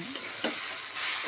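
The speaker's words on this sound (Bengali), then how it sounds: "তো কাঁচা লঙ্কাটা দিয়েও ভালো করে নেড়ে চেড়ে দিচ্ছি।" Green chillies get stirred into chowmein frying in a pan, a brief hissing sizzle with two quick scraping strokes close by.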